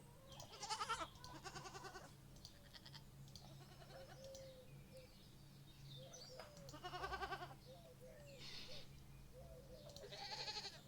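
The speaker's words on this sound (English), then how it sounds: "So let's go round up the goats again." Goats in a video game bleat in several separate calls, with quavering cries spread across the stretch and two louder bursts, over a low, steady background hum, with no talking.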